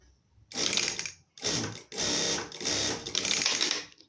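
A Siruba industrial sewing machine stitches in four quick bursts of rapid, loud mechanical whirring, each cut off by a short pause, with no voices over it.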